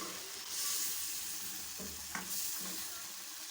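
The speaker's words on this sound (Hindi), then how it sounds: "बस अब इसको इतना पकाएंगे फुल फ्लेम पे कि दही का पानी भी इसमें खुश्क हो जाए" Shinwari chicken karahi with yogurt sizzles and fries steadily in a wok over a full flame, a constant broadband hiss broken by a few soft clinks of stirring, close and fairly loud, with no voices.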